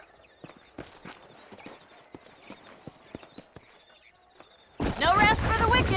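Horse hooves clip-clop steadily on dry ground in the Red Dead Redemption video game, a quick irregular run of soft knocks at moderate distance, then a voice begins talking over them near the end.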